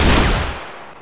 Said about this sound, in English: Was that a flashbang?